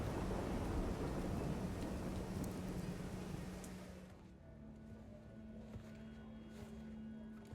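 Steady heavy rain with low rumbling thunder in The Division 2 video game, loud and dense at first, then thinning to a quieter drizzle with a low hum and scattered drops.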